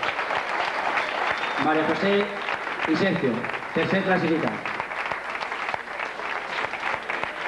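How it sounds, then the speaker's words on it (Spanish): An audience applauds finishers at a 1997 footrace awards ceremony in Sueca, a continuous wash of clapping beneath a man announcing names over a loudspeaker. "Aplaudan"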